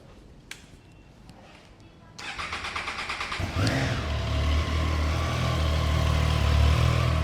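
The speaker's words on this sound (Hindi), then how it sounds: "फिर आपको मैं बस सुना देता हूँ कि क्या एग्जॉस्ट साउंड मिलता है इसमें आपको" A Triumph Trident 660 inline-triple motorcycle fires up after a quiet moment, quick revs climbing into a loud, steady exhaust drone from its under-belly exhaust, heard close by.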